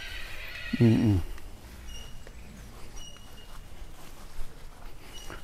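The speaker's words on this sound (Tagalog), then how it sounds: "So malaking tulong yung kabayo, sir." A horse on a small self-sufficient farm gives one loud, close whinny about a second in, then only faint outdoor ambience remains.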